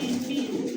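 Pigeons at a seller's stall, including Lahore, Kaka, Bombay, racer and satin breeds, giving a brief low steady coo close by.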